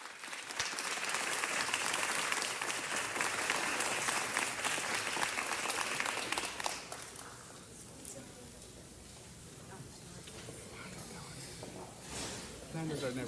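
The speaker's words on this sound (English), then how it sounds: "Let's give him a round of applause." An audience at an awards-style gathering applauds in a dense, loud wash of clapping that runs for several seconds, then drops to a quieter room murmur with scattered sounds.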